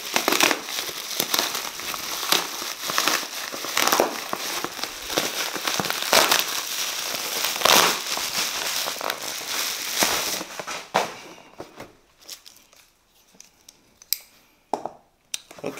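Packaging crinkles and rustles close up while a 1.2-litre SMATT double-insulated stainless steel tumbler is unboxed, giving a dense run of crackly crumpling that thins out into scattered sharp crinkles and rustles near the end, with no talking.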